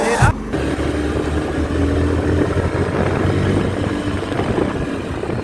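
A motorcycle riding along a good road past a temple, a steady low engine drone with wind rush, close and continuous throughout, no speech.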